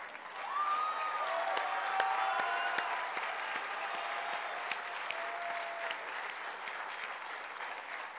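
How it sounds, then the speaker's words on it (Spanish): A crowd at the inauguration of a national park and museum claps steadily, with a few whistles and some cheering mixed in. The applause is held and even throughout. "Párate, Diego, vamos a darte un aplauso."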